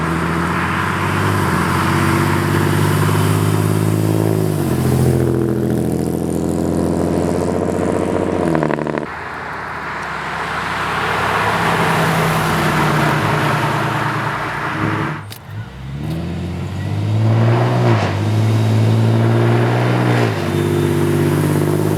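A straight-piped 2010 Camaro V6 drones loudly while driving, its exhaust rising and falling through gear changes with raspy revving swells and a brief lift-off dip midway.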